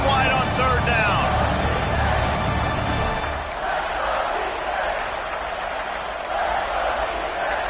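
A stadium crowd at a Michigan State versus Tennessee football scrimmage roars for the defense in the red zone, a loud, sustained wall of cheering that eases after a few seconds while a commentator talks over it.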